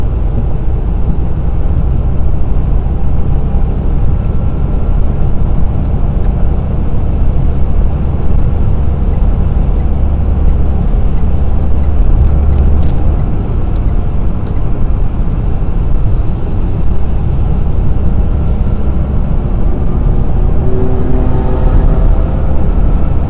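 A Renault Clio 1.5 dCi diesel car climbing a hill, with a steady, loud engine drone and road rumble heard from inside the cabin, constant throughout and with no talking.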